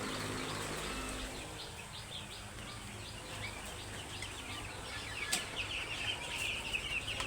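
A loose chicken clucks and flaps its wings at a poultry farm, the calls and wingbeats faint and scattered over a steady background hum, with a sharper flurry near the end.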